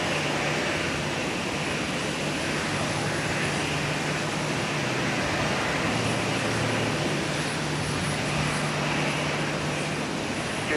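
A Sun Country Boeing 737-800 takes off from the north-south runway at Minneapolis–St. Paul Airport, its jet engines a continuous broad roar heard from a distance, steady throughout with no talking.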